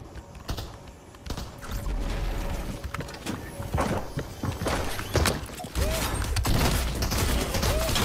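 Gunfire in the video game Fortnite: scattered sharp shots and short bursts from game audio, mixed with clacking computer keyboard keys and mechanical clicks, fairly loud and close throughout.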